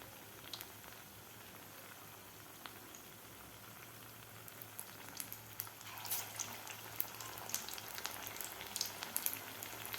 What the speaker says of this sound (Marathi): तर आता आपल्याला पनीरचा एक एक पीस घ्यायचा आहे आणि या पिठामध्ये बुडवून हे तेलामध्ये सोडायचं आहे अशा प्रकारे.